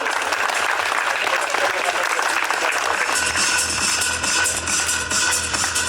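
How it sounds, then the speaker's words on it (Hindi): A crowd at an employees' award distribution function and pool party breaks into loud, dense applause, a continuous roar of many hands clapping close by, with a voice heard briefly beneath it. "जोरदार तालियां कंवर सर के लिए।"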